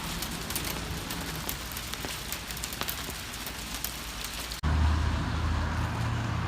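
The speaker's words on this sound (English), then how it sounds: "This is literally like giant hail." Large hail pelting down during an outdoor evening in Boulder, Colorado, a dense steady roar of hard impacts that turns abruptly louder and heavier partway through, with no voices.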